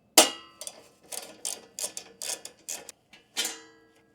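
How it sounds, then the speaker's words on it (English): A hand ratchet backing out the last screw on a Mercedes C63 S heat shield: a run of quick metallic ratcheting clicks in short bursts, close and clear, with no voices. "Now we're going to remove the last screw"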